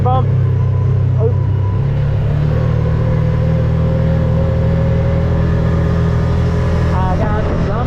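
An ATV engine runs loud and close with a steady low rumble and slight revving, under occasional voices.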